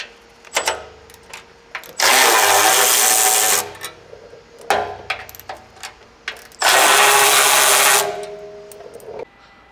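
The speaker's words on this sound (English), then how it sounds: "we're gonna get these 4 12 millimeter bolts out for this skid plate" A Milwaukee electric ratchet spinning out 12 mm skid plate bolts: two loud, sustained whirring bursts about two seconds each, separated by clicks, knocks and handling clatter.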